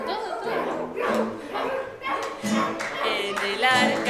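A person imitates a dog barking with a string of voiced woof-like yelps over about four seconds, close and fairly loud, mixed with singing and speech during a children's Sunday school song session.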